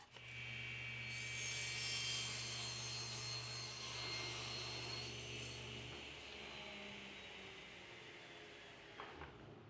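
A saw cuts a plywood drawer back to its finished width, giving a loud, steady whirring cut for about six seconds that then winds down and fades, with no talking.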